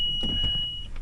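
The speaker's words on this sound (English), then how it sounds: "Little beep for the seatbelt works." A 2007 Toyota FJ Cruiser 4x2 with the 4.0L 1GR-FE engine sounds one steady, high seatbelt warning tone that lasts under a second, over a low cabin rumble.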